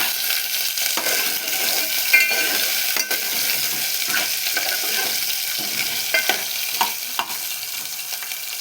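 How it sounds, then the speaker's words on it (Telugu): Green chillies being stirred into tomato rasam in a hot pan, a steady sizzle and frying hiss with a few soft scraping stir strokes and light clinks, close and continuous. "ఇందులోకి మనం ఒక 4-5 పచ్చిమిర్చిని కూడా యాడ్ చేసుకుందాం. వేసుకొని ఒకసారి కలుపుకోవాలి."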